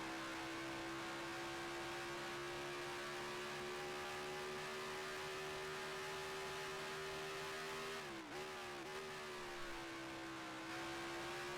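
A 1967-era Formula One car engine in Grand Prix Legends, a steady high droning whine held at near-constant revs, dipping briefly as it shifts gear and then climbing back to a sustained pitch.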